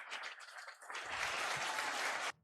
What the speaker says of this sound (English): Can you give these guys a round of applause,